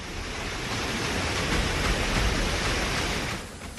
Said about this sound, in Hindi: मरीन ड्राइव पर समंदर की लहरें लोगों को डराती नजर आईं